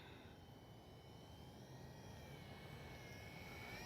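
A Dynam DHC Beaver RC plane in flight gives a faint, steady electric motor whine at a distance, holding an even drone throughout with no talk.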